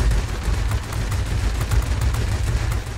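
Rear machine guns of a Me 410 Hornisse fire in the World of Warplanes flight game, a dense, continuous rattle of rapid shots over a deep, droning engine roar, loud and steady throughout.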